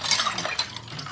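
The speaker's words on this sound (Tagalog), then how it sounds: "Maghuhugas na naman tayo ng pinggan." Dishes washed by hand inside a home: brief, close clinking of plates and cutlery with light scraping and a little water.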